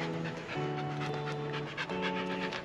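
A dog pants rapidly and steadily on a forest hike, breathing close and continuous over a faint tonal hum throughout.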